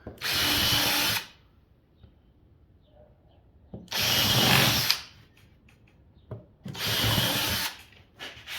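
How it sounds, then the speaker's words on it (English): A power drill whirs loudly in three separate bursts of about a second each, drilling through a table, with quiet pauses and small handling noises between. "Drill these through."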